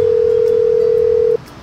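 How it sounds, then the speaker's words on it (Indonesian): A telephone dial tone before a call is placed, one steady loud single-pitch hum lasting over a second and then cutting off abruptly, alone with no voices. "Buat telepon Bowo ya"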